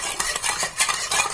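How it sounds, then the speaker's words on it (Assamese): Spoon stirring tamarind water in a bowl, quick rhythmic swishing and light clinking against the sides, close and clear with no voices. "এইবাৰ অলপমান লৰাই দিওঁ।"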